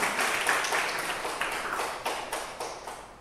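A crowd claps in a burst of applause at a national cupping standardization exam event in Malang, dense at first and thinning into scattered claps as it fades.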